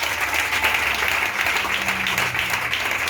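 Church congregation applauding together, a steady dense wash of clapping filling the space without a break, fairly loud and unbroken by speech.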